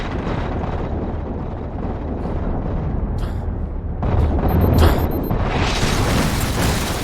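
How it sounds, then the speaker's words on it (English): A Wraith mortar hits in the Halo video game: a heavy boom bursts in partway through, over steady rumbling battle noise and wind-like hiss. "I love how the Wraith's mortar is just slow enough to make you dread the impact, but just fast enough to make it difficult to dodge"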